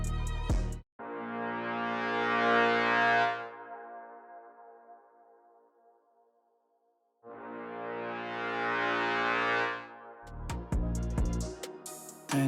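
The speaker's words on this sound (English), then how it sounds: "The next sound I added was these marcato brass chords." Low sustained marcato brass chords from an orchestral sample library, two long swelling blasts with a gap between them and a reverberant tail, ending in a few short loud stabs.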